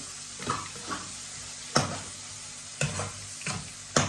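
Quail curry lightly frying in a pan with a soft sizzle, broken by several sharp stirring scrapes and knocks of a spoon against the pot.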